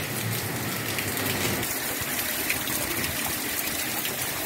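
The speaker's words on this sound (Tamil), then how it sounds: "சீட்டு உள்ளெல்லாம் சாரல் வருது." Record-breaking heavy rain pouring outside an open window, spray blowing in over the seats, a loud continuous rushing wash that fills the whole stretch.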